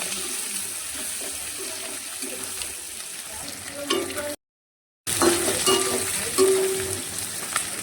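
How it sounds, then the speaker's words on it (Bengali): Onion and capsicum softly sizzling in hot oil tempered with cinnamon, cloves and cardamom, a low steady crackle with stirring clinks and a brief gap, alone without talk. "এখানে নিয়েছি পেঁয়াজ আর দিচ্ছি ক্যাপসিকাম। হালকা করে একটু ভেজে নেব।"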